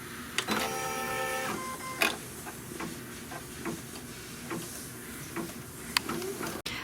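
Embroidery machine stitching registration marks onto stabilizer for a trapunto pillow, a soft continuous mechanical hum with a brief beeping tone near the start and scattered clicks and taps.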